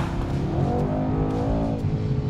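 Mercedes-AMG C63 S engine revving under hard acceleration, a loud close roar rising and falling in pitch over a couple of seconds with no talk.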